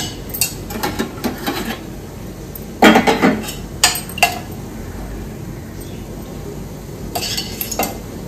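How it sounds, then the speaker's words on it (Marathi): A metal idli steamer pot is handled while being greased with oil in a home kitchen, giving close clinks, taps and scrapes in short clusters with quiet gaps between them. "तर मी आता भांड्याला तेल लावून घेते।"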